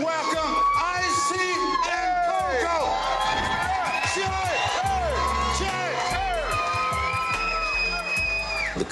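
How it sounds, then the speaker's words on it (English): Dense crowd at a live show cheering and whooping loudly, with many overlapping voices and shouts sustained throughout, close and energetic. "The crowd gives us a great applause"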